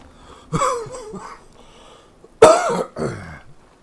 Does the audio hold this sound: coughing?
yes